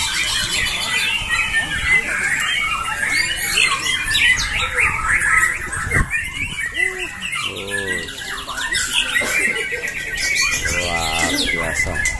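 White-rumped shama (murai batu) songbird calling at a bird-singing contest, bright squawks and chirps over a constant noisy crowd background with talk.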